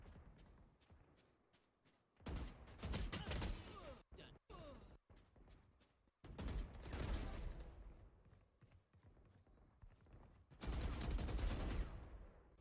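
Bursts of gunfire in a first-person shooter video game, several loud rapid volleys separated by quieter stretches with footsteps and thuds, close and punchy.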